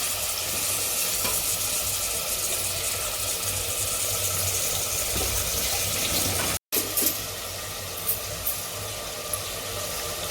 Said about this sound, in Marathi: थोडंसं असं परतून घ्यायचं